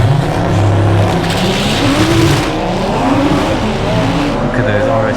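Audi RS3 cars launch hard at a quarter-mile drag strip, a loud, close engine roar with rising revs and tire noise sustained over the whole stretch, with a voice talking over it.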